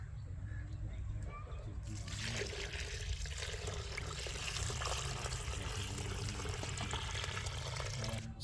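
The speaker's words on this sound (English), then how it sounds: "Begin by putting these materials in a 5-gallon bucket and filling it with water, leaving some space at the top." Water pours and splashes into a 5-gallon bucket with a steady rushing flow that starts loudly after a quiet opening and keeps going throughout.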